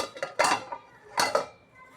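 A lid set down on a pot of simmering potato curry (batata rassa bhaji) gives two short metallic clanks, each with a bright ringing clatter, close by with no talking.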